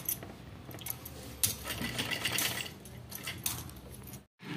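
A sewing machine stitches a strip of border onto the neckline of a blouse, giving a steady close mechanical whirr with light clicks that cuts out briefly near the end.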